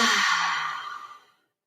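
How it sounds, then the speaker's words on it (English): One big audible exhale during a living room yoga session, a long breathy rush of air that starts strong and tapers off to silence, close and alone. "big audible exhales with me"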